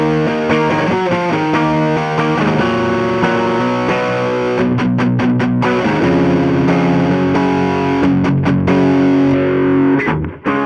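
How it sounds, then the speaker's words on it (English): Overdriven electric guitar played dry without any phaser, chords and riffs ringing loud and distorted with short choked gaps, on its own with no talking. "Let's actually try it with a little bit of overdrive. So this is the sound without the phaser."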